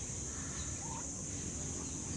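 Turkeys on a farm, including breeding toms and young hens, gobbling and clucking faintly in a steady, noisy outdoor background with no talk.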